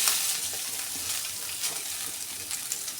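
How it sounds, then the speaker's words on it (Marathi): Potatoes tipped into hot oil with turmeric, asafoetida and cumin in a pan, for vada pav potato chutney, frying with a steady loud sizzle and scattered stirring scrapes throughout. "आता आपण बटाटे टाकून घेऊ"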